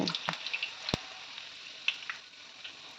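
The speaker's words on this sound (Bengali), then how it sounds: "এভাবে আমি প্রতিটা কচুরি ভেজে নেব" Peas-stuffed kachori deep-fry in hot oil with a faint, quiet bubbling and scattered light crackles and pops.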